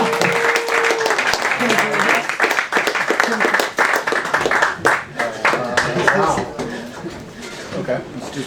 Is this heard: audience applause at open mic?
yes